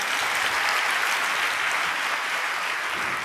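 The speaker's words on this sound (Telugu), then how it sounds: "దేవుని కార్యాలు చప్పట్లు కొట్టి దేవుని మహిమపరుద్దాం." A church congregation at a Sunday service claps together, a dense, loud, sustained burst of applause from many hands that fills the whole moment without pause.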